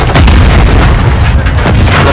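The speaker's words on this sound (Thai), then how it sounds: "ผมเอาระเบิดไป" A grenade blast in a shooting video game fills the moment with a loud, dense, rumbling boom that stays heavy and sustained throughout.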